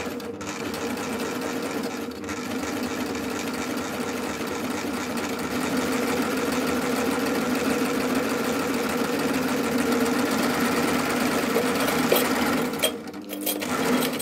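A sewing machine stitches steadily through denim, worked on the reverse side of the fabric, with a loud continuous motor hum and rapid needle chatter that runs almost unbroken before a brief pause near the end.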